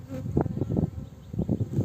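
Honeybees buzz close by at an open hive during a queen check, a dense, pulsing drone that swells and dips in quick uneven waves.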